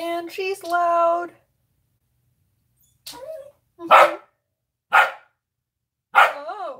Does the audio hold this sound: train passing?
no